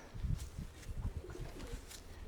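A bird held in someone's hands gives soft, low cooing pulses, repeated in an uneven rhythm, close but faint.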